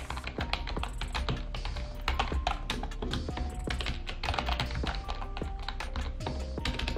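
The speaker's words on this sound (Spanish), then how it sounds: "yo compré el Klim porque era retroiluminado, inalámbrico y no hacía ruido, ¿vale? Hace muy poco ruido. Fíjate el tecleo." Steady, rapid typing on a quiet wireless backlit Klim keyboard, dense soft key clicks in a continuous rhythm, close and alone with no talking.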